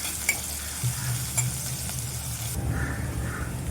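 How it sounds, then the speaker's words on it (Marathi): Finely chopped onion with spices sautés in oil for misal pav, making a close, steady sizzle with scraping stirs and light utensil clicks; the frying sound changes character partway through, with no talk. "आता आपण त्यामध्ये बारीक चिरलेला कांदा घालायचा आहे हे बघा सर्व साहित्य आपण असं चांगलं तेलामध्ये व्यवस्थित असं परतून घ्यायचं आहे"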